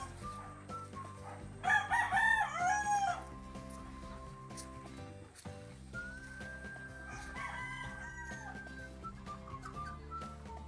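Gamefowl broodstag roosters crow loudly at close range in a farm pen, one strong cock-a-doodle-doo followed by a fainter, more distant crow and scattered clucks over a steady background.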